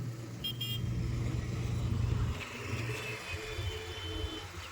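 A manual car is reversed during a driving lesson, its engine giving a steady low rumble close by that shifts slightly as it moves, with no talking.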